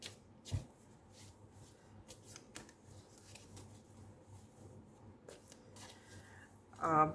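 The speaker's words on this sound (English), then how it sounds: "We'll take out 2 cards from the Tea Leaf Tarot." Tea Leaf Tarot cards are handled and drawn from a large deck, with soft papery slides and a few sharp flicks scattered through a quiet room, ending in a brief louder rustle.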